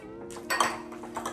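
Brown sugar and maple syrup mixed in a bowl, heard as a brief, soft scrape and clink of a utensil against the bowl, close and quiet.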